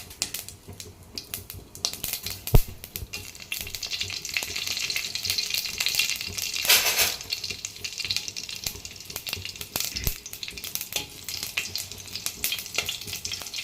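Dried red chillies crackle and sizzle in hot tempering oil for a Telugu dondakaya roti pachadi, a steady broadband fry with soft stirring scrapes and a brief louder burst midway, no voices.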